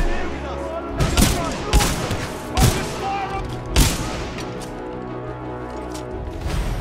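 Supporting gunfire in Titanfall 2 rattles out in repeated heavy bursts with booming impacts every second or so, over a dense, rumbling battle bed.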